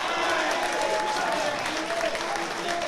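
A boxing home show crowd at a club event cheers and applauds steadily, a dense, loud wash of clapping and voices with a commentator talking over it.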